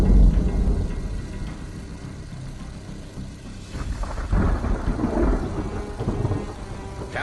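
A severe thunderstorm: heavy rain hisses steadily while deep thunder rolls and rumbles, swelling again in the second half, loud and close with no voices.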